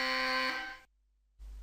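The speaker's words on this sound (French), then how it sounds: "Alarme d'urgence." A downloaded emergency alarm effect plays through computer speakers, a harsh, steady buzzing tone held for almost a second, then a gap of silence and a faint low rumble.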